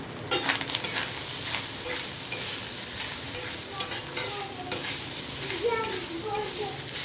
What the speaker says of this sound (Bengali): এবার আমি এর মধ্যে নারকেল কোড়াটা দিয়ে দেবো